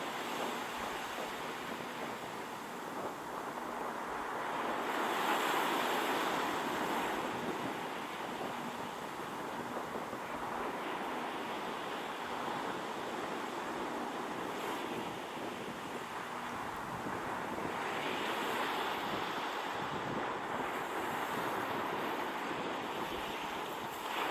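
Low waves washing continuously onto a black volcanic sand beach, a steady wide rush of surf with gusty wind noise on the microphone and no voices.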